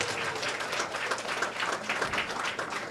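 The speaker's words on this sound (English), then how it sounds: "Let's give a big round of applause for all of them who are here with us." A crowd gives steady, dense applause and clapping for war survivors at a war claims check distribution in Guam, with no voices over it.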